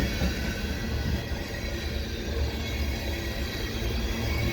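A westbound CP freight train rolls past Cedar Park EXO station in fresh snow, a loud, continuous low rumble of railcars with faint wheel squeal and no pauses.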